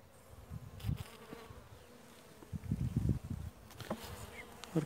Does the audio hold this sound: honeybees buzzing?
yes